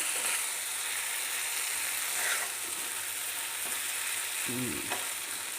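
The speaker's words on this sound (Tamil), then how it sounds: "திருப்பி போட்டுடலாம், அந்த பக்கமும் ஃப்ரை ஆகட்டும்." Prawns pan-frying with chilli and curry leaves after being flipped, giving a steady close sizzle and crackle throughout, with a few light utensil clinks near the end.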